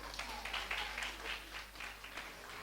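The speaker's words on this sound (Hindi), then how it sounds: "एक बार जोरदार तालियां" Audience applause for a foundation's work at a Hindi-language ceremony: a faint, steady patter of many hands clapping, lasting the whole few seconds with no voices over it.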